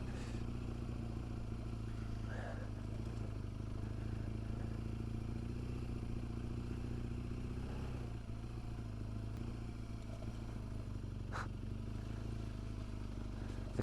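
BMW GS 1200, a big heavy motorcycle on road tyres, rides slowly off-road over icy, slippery mud in freezing weather. The engine gives a steady low rumble throughout, with occasional clatter and scrapes over the terrain.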